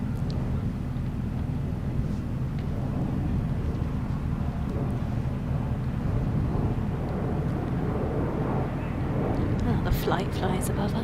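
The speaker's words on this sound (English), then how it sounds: "Oh, the flight flies above us. Much louder" A plane passing overhead during a Kent vs. Durham cricket match, heard as a broad low rumble that holds steady and swells slightly toward the end, with wind noise and people talking over it.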